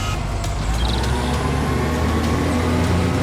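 Sound effect for an animated Hindi story: a truck engine runs with a heavy low rumble and steady road noise, loud and continuous for a few seconds without any talking.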